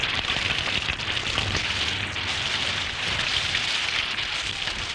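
Steady rain falls in a humid tropical setting in Papua New Guinea, an even broadband hiss of drops with no distinct drips, constant in level throughout, with no talk.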